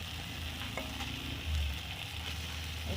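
Fried fish pieces go into a hot pan with mustard seeds, setting off a loud, steady sizzle with a brief louder surge midway, close and continuous with no talking.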